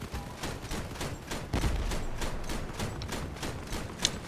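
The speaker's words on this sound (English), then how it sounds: "I'm just shooting until it explodes" Video game gunfire during a hard raid fills the clip with steady, evenly spaced rapid shots aimed at a target until it explodes, moderately loud and continuous with no talking.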